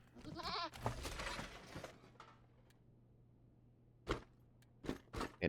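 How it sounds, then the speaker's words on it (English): A goat in Wasteland 3 bleats with a quavering, wavering cry early on, followed by a few sharp, brief game sounds in a quiet room. "There's a room with a goat."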